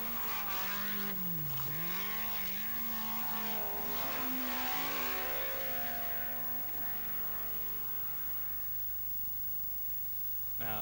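A rally car from the 1981 Welsh Rallysprint drives fast, its engine note rising and falling through the gears as it slides through corners, loud and close with a steady roar of wind noise underneath.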